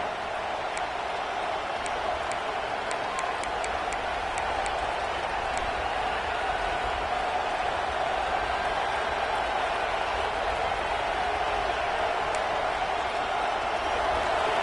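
A packed stadium crowd in a college football video game roars steadily on a third down against an Oklahoma offense, a dense continuous wall of noise with faint whistles and claps poking through.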